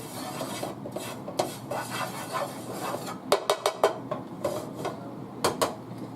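A whisk scraping and rattling against a pan with butter and browned crispies from cooked pork chops, a steady rubbing stir broken by a run of sharp metallic taps.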